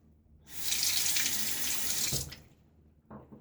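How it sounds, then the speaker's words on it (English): Water gushes from a sink tap for about two seconds to rinse a razor after a wet shave, a loud close hiss that cuts off abruptly, followed by a few faint splashes. "All right, let me rinse."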